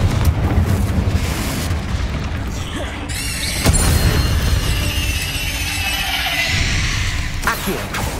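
In the Hogwarts Legacy video game, the Confringo blasting curse sets off a heavy booming explosion amid dense game effects and clattering debris. A voice speaks over the din.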